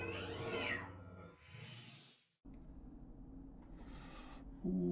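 A house cat meows near a lamp, ceiling fan and bust, giving a couple of drawn-out mid-pitched cries, followed by a short gap, a low steady background hum and a brighter sharp call near the end.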